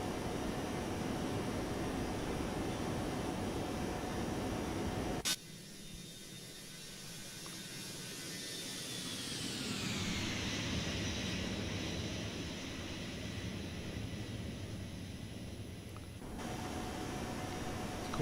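Simulated Airbus A321neo jet taking off in X-Plane 12, a steady loud engine roar and rushing air that shifts in tone partway through, a continuous wash with no voices.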